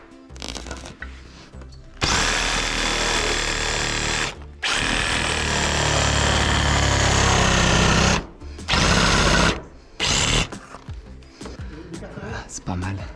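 A power screwdriver drives a screw into a roof rafter during a roof window install, with long whirring bursts of the motor, brief pauses between them, and short talk at the start.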